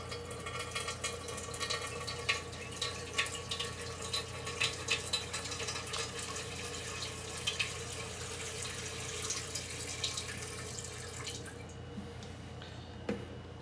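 Water trickles and drips steadily into a pet's water dish from a nearby tap, a continuous close splashing with small irregular drops and no voices.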